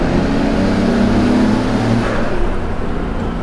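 A car engine revving hard in second gear inside a tunnel, a loud, continuous droning roar with a strong low rumble that echoes off the walls and eases slightly near the end.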